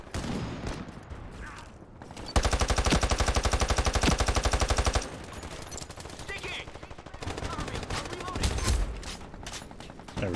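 Rapid automatic gunfire from the first-person shooter Ironsight, a loud sustained burst of evenly spaced shots lasting a few seconds amid the game's background noise, followed by further scattered shots and clatter.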